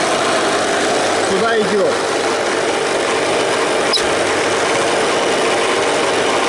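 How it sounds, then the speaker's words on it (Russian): An air compressor running and pushing air through a hose, a loud constant hiss and hum that fills the whole moment, with a brief spoken remark over it. "Включаем компрессор."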